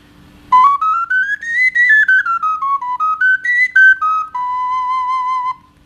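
A four-hole English pendant ocarina plays a short, clear whistling melody of detached notes that rise and fall, close and fairly loud, ending on a held tone.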